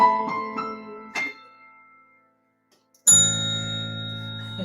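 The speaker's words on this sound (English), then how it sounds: "Look, I brought my bell." A hand bell at a streaming concert gives a few light dings, then after a pause one loud, bright strike that rings on with a long shimmering sustain, heard alone and close.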